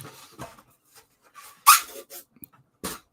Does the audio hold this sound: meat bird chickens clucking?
no